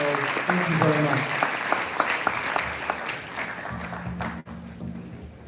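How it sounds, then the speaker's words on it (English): Audience applause at a crypto investment summit after a question session, a dense steady clatter of clapping that fills the room, with a voice and tonal sounds emerging near the end. "give a round of applause for everybody"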